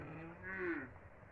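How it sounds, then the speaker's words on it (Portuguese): A Girolando cow on a dairy farm in the Brazilian sertão gives a single drawn-out moo that swells in the middle and fades away, heard at moderate distance against quiet farm background. "As vacas estão ali."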